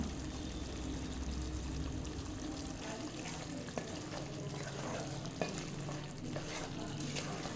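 Spicy chicken biryani frying in a pan while it is stirred with biryani masala powder: a steady, close sizzle with scraping stirring strokes throughout.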